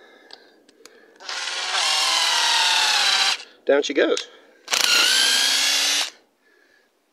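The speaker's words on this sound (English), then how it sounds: "little attachment on the end of a drill. And it's called a nut setter." A power drill with a nut setter attachment spins up in two long whirring bursts while driving awning pegs, briefly interrupted by a short spoken remark, with quiet pauses before and after.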